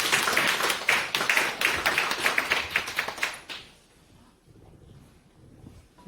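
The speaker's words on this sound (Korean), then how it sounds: "하나님께 영광의 박수 한번 받고" Congregation clapping together in a church for about three and a half seconds, a dense, lively burst of applause that stops abruptly and leaves faint room noise.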